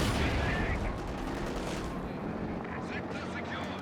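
Panzer IV tank firing on the move in Company of Heroes 2, a heavy booming shot with rumbling battle noise that trails off, under continuous excited commentary.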